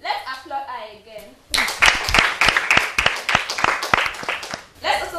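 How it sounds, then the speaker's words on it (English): Audience applause at a school debate lesson, a burst of sharp, irregular hand claps that starts abruptly after someone speaks and fades as talk resumes. "Let's applaud her again."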